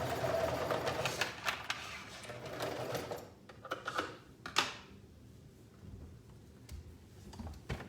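A two-needle cover stitch machine topstitching along a shorts pocket edge, a fast close rattling run that stops partway, followed by a few isolated clicks and handling taps.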